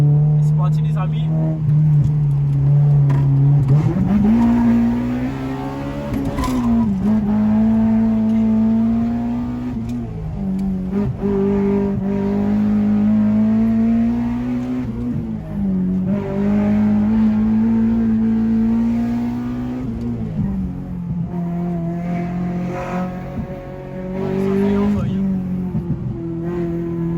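A small Honda's engine drones loudly and steadily on launch control, its pitch rising and falling as it revs and shoots flames, with voices talking over it.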